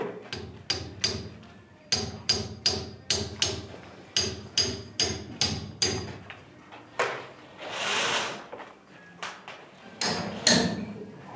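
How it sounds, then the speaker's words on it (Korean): Epoxy-coated rebar is hammered into place during house construction in Thailand, with repeated sharp metallic hammer blows in quick rhythmic bursts, close and loud, and a brief scraping rush in the middle. "설치할 곳에 철근에다가 에폭시를 발라서 망치로 박아주고 있습니다"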